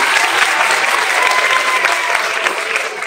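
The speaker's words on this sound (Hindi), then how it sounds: "तो तालियां बजा दीजिए।" Audience clapping fills the room in a dense, loud, even roar of applause, sustained throughout with no break.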